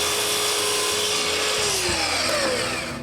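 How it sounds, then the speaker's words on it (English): Power saw cutting excess maple wood, a loud continuous whine with a pitch that drops as the blade bites, close and alone. "then I cut the excess maple"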